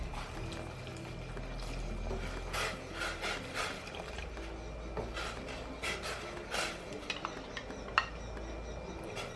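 Continuous stirring and scraping of starch batter in a pot for a Thai corn dessert, with rhythmic rubbing strokes and occasional light clinks against the side.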